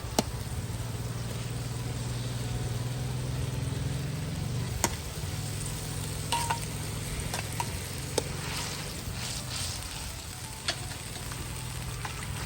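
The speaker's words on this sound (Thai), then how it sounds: "ใส่ขิงลงไปครับ" Ginger sizzling in a hot pan, a steady broadband frying hiss with low rumbling underneath and a few sharp clinks, cooked for a Thai-Lao dish of snakehead fish stir-fried with fermented soybean sauce.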